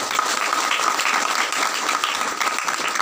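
An audience at a PC Ansor Banjar conference opening claps steadily as a dense, continuous patter of many hands, moderately near and even in loudness, with no voices over it.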